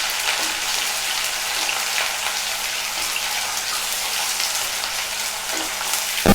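Half a cup of chopped onions fries in hot oil on medium heat for Bengali chola bhuna, giving a loud, steady, dense sizzle with no pause from start to finish.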